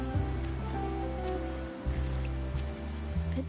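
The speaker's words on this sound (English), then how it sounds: "But today's rain feels different. As it falls, the troubles of yesterday are washed away." Steady rain falls in Wuthering Waves, a video game, a soft continuous patter under low background music, with no voices.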